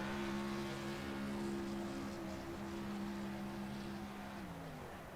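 A race car at a short track holds a loud, steady engine drone with sustained high revs throughout, the pitch sliding down near the end as it eases off after burnouts.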